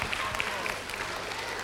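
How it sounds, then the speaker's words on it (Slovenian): Audience applauding the parents at a Christmas dance party in Vrhnika, a steady mid-level wash of clapping running the whole short stretch with a faint hum underneath. "En aplavz za starše, prosim."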